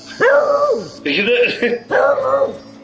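A dog barks loudly three times in close succession with yelping, howl-like tones, each bark drawn out and clearly near.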